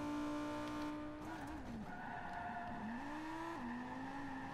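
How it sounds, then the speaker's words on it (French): A car skids in the video game Watch Dogs 2; a steady engine drone wavers and bends in pitch as the tires slide, loud and close, with no talking. "Hop, petit dérapage."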